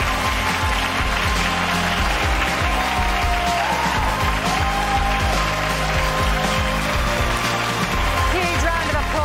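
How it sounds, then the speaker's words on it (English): Steady, dense applause from an audience at the Rise Awards 2022 ceremony, loud and continuous for the whole stretch, with a faint hum of music or crowd beneath the clapping. "Huge round of applause to our production and support engineer of the year, Markella."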